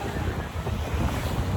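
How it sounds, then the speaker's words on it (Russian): Choppy whitecapped sea off Tenerife heard from a boat, with waves washing and wind buffeting the microphone in a continuous, close rush. "Одни барашки волн."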